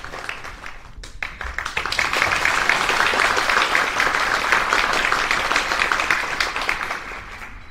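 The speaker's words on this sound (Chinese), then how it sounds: "让我们一起用热烈的掌声欢迎他们四个人今晚首度的四重奏哦" An audience applauds to welcome a string quartet at a violin students' concert, with dense clapping that swells after a second and holds steady before easing slightly at the end.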